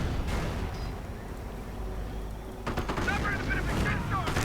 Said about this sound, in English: Oh dear, heavy mortar fire.